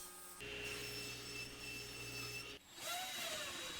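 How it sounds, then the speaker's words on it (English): A table saw cuts through a sheet of plywood, giving a steady, close whine and rough wood roar for about two seconds before the blade cuts out and the motor winds down. "I can use the original top to set the table saw and cut a new top"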